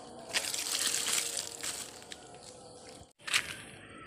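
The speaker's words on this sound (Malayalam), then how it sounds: "അപ്പോൾ ഈ വെള്ളം കൂടി നമ്മൾ അതിൻ്റെ മുകളിൽ നിന്ന് ഒഴിച്ചു കൊടുക്കാൻ പോവാം" Water pours from above onto compost in a home kitchen garden, a steady close gushing splash that fades after about two seconds, breaks briefly, then resumes with a short burst, with no voices.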